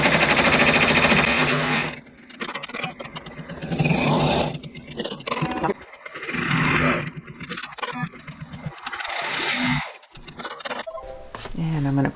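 Embroidery machine stitching a tack-down line for the leaves on a Christmas flowers panel, a steady buzzing whir broken by short pauses, running close and loud while someone talks over it.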